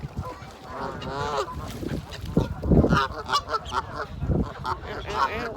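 Geese honking repeatedly and noisily at close range, several birds calling over one another, with a person's voice faintly mixed in.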